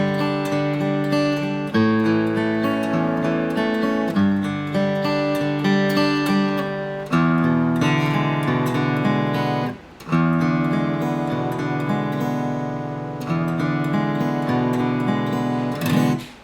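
Guitar playing the chords of a song, full and continuous for over sixteen seconds, with strummed changes every couple of seconds and one brief pause midway, no talking.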